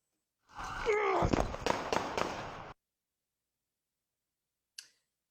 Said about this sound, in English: So you heard the shots there